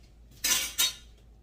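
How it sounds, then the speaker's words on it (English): Two thick, heavy scraping strokes as a big heavy-duty spoon works through a stiff chicken and wild rice casserole in a dish, close by with nothing else around. "A big, heavy-duty spoon. And we're going to stir this around."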